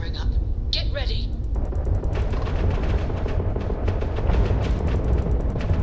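Spaceship weapons fire in a video game: a dense, steady barrage of rapid booming shots and mechanical pulses that runs without a break, loud and close, with bright electronic chirps layered over the top.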